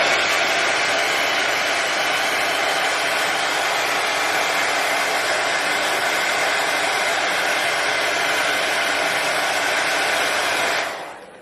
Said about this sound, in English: You can use a hair dryer or you can use a heat gun.